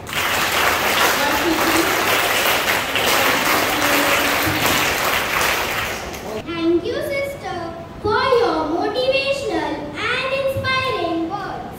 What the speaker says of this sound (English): Give them a cheer clap.